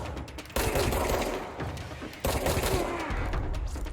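Enemy SMG fire in the video game Control: loud, continuous rapid bursts of automatic gunfire run through the whole short stretch, close and dense.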